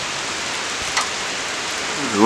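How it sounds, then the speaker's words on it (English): Steady rain falling, an even hiss that continues throughout with a brief louder patter near the middle and a slight swell at the end. "the rains came in"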